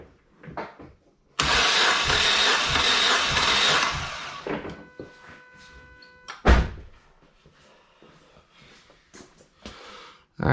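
Dodge SRT-4 engine cranking on the starter during a cylinder compression test with the plugs pulled, a loud, steady whirring burst of about three seconds, followed by scattered clunks and knocks.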